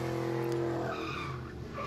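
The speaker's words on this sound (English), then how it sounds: "this guy's gonna spin out" A car spinning out on a race track with tires skidding, a loud, sustained tonal squeal that fades slightly toward the end, heard up close and alone.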